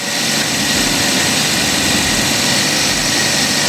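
A Geely car engine idles smoothly and evenly, a steady continuous hum with a low rumble, loud and close, holding constant throughout with no talk over it.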